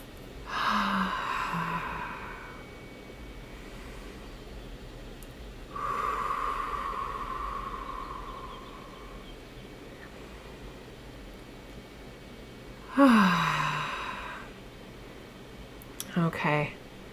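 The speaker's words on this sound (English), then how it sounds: "let's take in a couple nice deep breaths here" Slow, deep breaths are drawn in and let out, several audible inhales and exhales spaced a few seconds apart, close and fairly loud in a quiet room.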